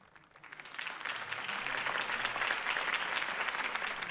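A crowd applauds a campaign speech for Harvey Dent in the Batman Telltale game, as clapping swells from a quiet start into a steady, dense ovation that holds to the end with no talking over it.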